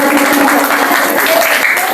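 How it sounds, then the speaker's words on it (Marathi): Women at a contest game event applaud for the remaining contestants, a loud, continuous burst of close clapping filling the whole moment with faint voices beneath. "चला टाळ्या वाजवा राहिलेल्या स्पर्धकांसाठी"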